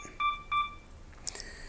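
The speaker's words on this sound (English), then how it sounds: "I have this set up on a 2-second delay, so that's why you're hearing beeping" Two short electronic beeps from a camera's two-second self-timer, about a third of a second apart, followed by a brief higher chirp and a faint click of the shutter, in a quiet studio.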